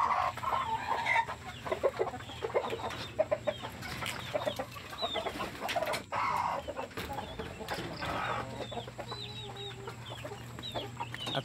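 A hen clucks repeatedly in short, close calls, with other chickens faintly around her in a backyard coop.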